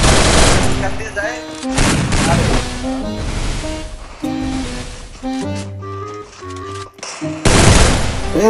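Gunfire in a shooting video game, with rapid bursts of shots mixed with game music and effects, loud and dense, with a voice talking over parts of it.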